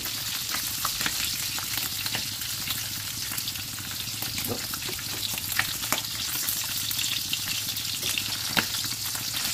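Milkfish (bangus) fries in hot oil with a loud, steady sizzle broken by frequent sharp pops and crackles throughout.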